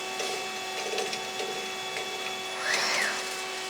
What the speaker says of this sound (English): That was the feed motor retracting the tool just before it went up.